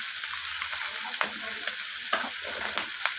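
Spices and vegetables sizzle loudly in a frying pan, with a steady hiss of hot oil and frequent clinking, scraping strokes as they are stirred together.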